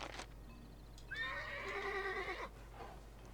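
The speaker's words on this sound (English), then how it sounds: "A normal, if rather feeble-looking coach horse." A coach horse in the Drakensang: The Dark Eye video game gives one clear whinny of about a second and a half, falling in pitch, loud and close over a low steady background hum, with faint hoof clops around it.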